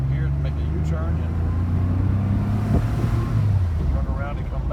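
A 1980 Porsche 911SC Weissach Coupe driving through afternoon traffic and swinging into a U-turn, its engine a low steady drone with a rising then falling pitch sweep and wind buffeting, rumbling on throughout.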